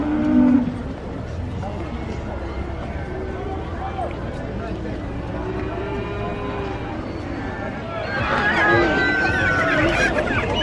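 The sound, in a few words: cow mooing at a market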